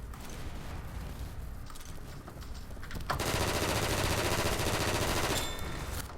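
Dense automatic gunfire in the video game Double Action: Boogaloo, a thinner rattle at first that swells into a loud, continuous burst of rapid shots over a steady background roar, with no talking.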